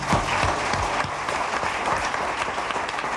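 A church congregation applauds steadily, with dense, continuous clapping from many hands filling the space for the whole stretch, loud and close with no break.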